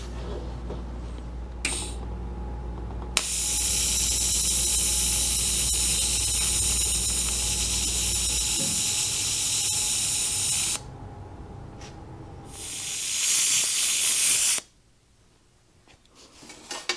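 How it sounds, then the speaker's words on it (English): Welding a threaded part on each side to stop warpage, a steady hissing, sputtering arc that runs loud and continuous for several seconds, pauses, then resumes in a shorter burst before stopping, with low machine hum underneath. "I want to still weld it on each side to stop warpage"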